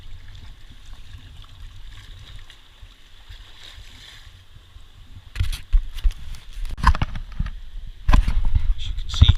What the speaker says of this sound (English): As you can see, we're kayaking. Next to large cliffs.